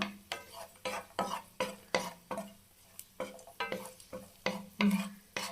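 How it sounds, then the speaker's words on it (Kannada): Cashews and raisins roasting in a pan on low flame, stirred with a spoon: a steady rhythm of close scraping and clinking strokes, roughly two per second, over a faint sizzle, with no talking. "ಸ್ವಲ್ಪ ದ್ರಾಕ್ಷಿನೂ ಲೋ ಫ್ಲೇಮಲ್ಲಿ ಇಟ್ಕೊಂಡು ಹುರ್ಕೊಳ್ಳೋಣ"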